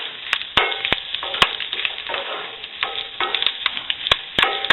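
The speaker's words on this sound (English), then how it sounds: "Stir that up. That smells so good. Sausage, chorizo, ham, peppers," Sausage, chorizo, ham, peppers and onions frying in cast iron, a close crackling sizzle broken by sharp scrapes and clicks as the mixture is stirred, with no talking.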